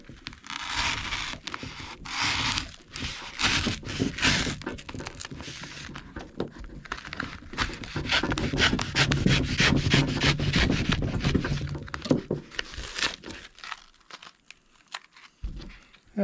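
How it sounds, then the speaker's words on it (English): A knife slicing through foam to trim excess from a fake rock mold, heard as a steady run of close, scratchy rubbing and crinkling strokes for about twelve seconds before fading to near silence. "We'll simply take a knife and cut through the foam."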